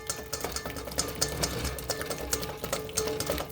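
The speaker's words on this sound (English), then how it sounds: "I'm going to whisk it up. Right, so just gonna whisk it." Crab cake mixture with tarragon being whisked in a bowl, a steady run of quick, rhythmic scraping clicks against the sides, close and moderately loud with no talking.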